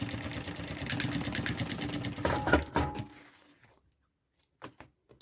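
Sewing machine stitching a synthetic bag strap in rapid bursts of mechanical clatter, a few heavy thunks, then stopping into near silence with scattered small clicks.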